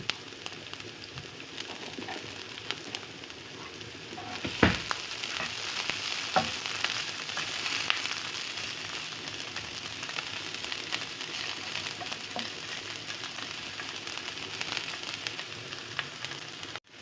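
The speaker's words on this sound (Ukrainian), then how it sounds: "цибуля трошки підсмажиться, я тоді добавлю грибочки" Chopped onions sizzle in olive oil in a frying pan, a steady crackling fry with a few stirring clatters, close and moderately quiet, no talking.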